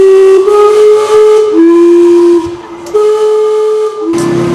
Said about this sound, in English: Every quarter hour, the 2-ton SteamClock whistles and shoots.